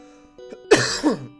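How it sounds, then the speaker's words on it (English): A single harsh cough, close and loud, with a throaty, rasping burst and a short follow-up hack before it trails off. "Yep, there's the cough."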